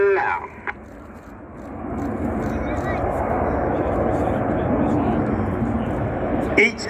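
A Red Arrows display jet at an air show passes overhead as a loud, broad roar that swells and holds for several seconds, with a commentator talking over it.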